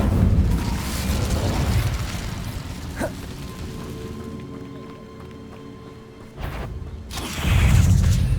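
Incendio fire spell in the game Hogwarts Legacy: a roaring, rushing burst of flame over a low rumble, with a sharp crack near the middle, then a brief drop before another loud whooshing surge.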